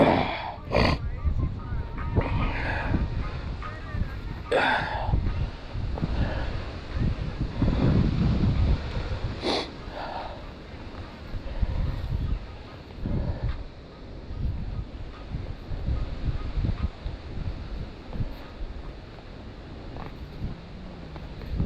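Strong wind buffets the microphone on an outdoor disc golf course, a continuous rough roar with gusting surges and sharp knocks throughout, as a person talks intermittently over it.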